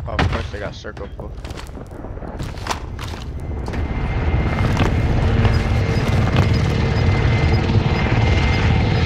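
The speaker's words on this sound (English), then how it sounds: "Enemy supply choppers above." Enemy supply helicopters in a shooter video game, a loud steady rotor drone that builds and fills the soundscape, with bursts of gunfire and booms cracking over it near the start.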